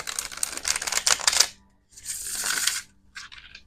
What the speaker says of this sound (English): Let me tell you about how beautifully these shuffle right out of the package.